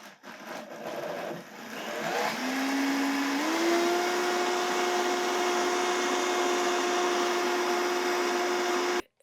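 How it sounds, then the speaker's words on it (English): High-speed blender mixing keto dark chocolate brownie batter, nut free and dairy free: a few rattles at the start, then a loud steady whirring drone that steps up in pitch and holds until it cuts off abruptly. "So I have a high-speed blender."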